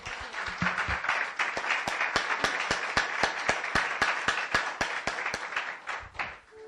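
A church congregation applauds together, dense clapping with strong rhythmic beats falling in a steady unified pulse, loud and close, fading out at the end.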